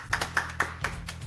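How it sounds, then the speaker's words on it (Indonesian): A few sharp hand claps, four evenly spaced in just over a second, greet the chairman of a company group; they sound quiet and close over a low steady hum. "Semuanya tepuk tangan."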